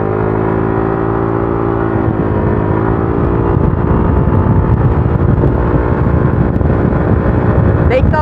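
A Honda Click scooter with an Akrapovic exhaust pipe, silencer still fitted, idles with a steady throbbing tone, then revs and pulls away into a rougher, louder roar mixed with wind rush.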